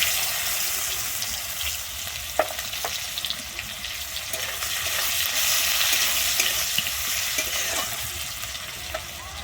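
Chopped onion frying in hot oil with nigella seeds for a Bengali style sea fish curry, a loud, steady sizzle with occasional stirring clicks and crackles.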